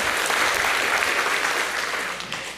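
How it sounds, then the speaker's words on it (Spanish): Steady audience applause after a talk at a soil ecology and regenerative agriculture conference, dense and even throughout, easing slightly toward the end with no voices on top. "Les pediría un aplauso para la doctora Lescano."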